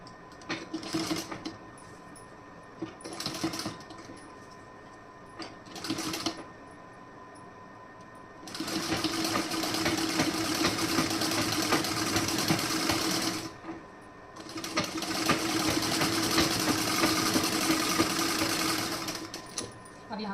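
Short taps of a sewing machine starting up, then two long steady runs stitching a folded fabric seam on the front straight side, close and continuous with a short pause between.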